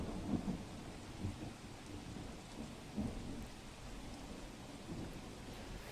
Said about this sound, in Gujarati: વધાવી ગામે અવિરતપણે વરસાદ વરસી રહ્યો છે